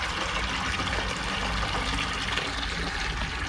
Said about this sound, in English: fill up this bucket with some water, put in some car wash stuff